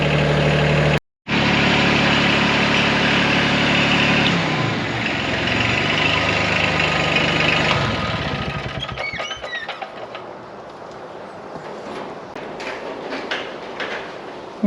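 An older car's engine idles steadily with a low, even drone, then is switched off partway through, leaving quieter fading mechanical noise and faint clicks.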